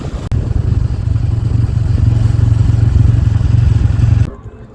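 Motorcycle engine running steadily and close as the bike rides along toward a main road near a forest, a constant mid-pitched drone that cuts off abruptly near the end.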